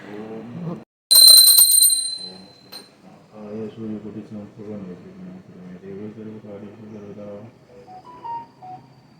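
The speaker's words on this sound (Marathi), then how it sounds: "घंटी वाजवा." A handbell is rung during a Gudi Padwa Brahmadhwaj puja at home: one bright, loud burst of ringing lasting about a second, followed by voices talking and chanting.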